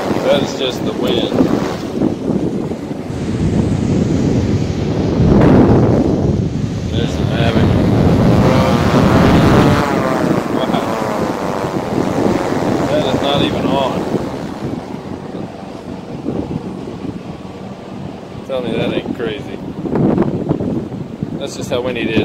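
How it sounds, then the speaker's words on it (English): Strong wind buffets an outdoor camera microphone during a drone wind test, producing a continuous loud roar that swells in heavy gusts throughout. "that is just the wind"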